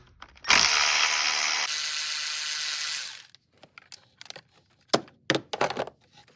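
A bolt is loosened on a 2.0T engine, a long, loud mechanical whir for a few seconds followed by scattered sharp clicks and clanks of the tool.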